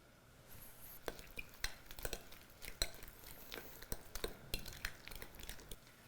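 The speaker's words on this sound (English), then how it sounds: "I'll mash them up into that bowl with the orange zest" Ripe bananas mashed in a bowl with orange zest, giving soft irregular squishy thuds and scrapes, moderately close, with no talking.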